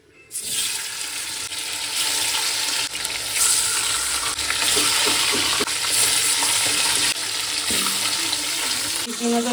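Salted fish fry in a pan with a loud, continuous close-up sizzle and crackle that starts abruptly and holds steady throughout, with faint bits of voice beneath.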